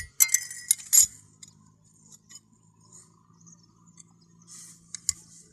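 A metal clutch plate is set down onto a pressure plate: a few sharp, close metallic clinks and clatters, then mostly quiet apart from a low hum and a couple of faint taps.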